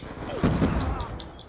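A frag grenade is thrown and explodes in Black Ops II: a short scuffle, then a sudden loud blast with crashing debris and rumble tailing off over about a second.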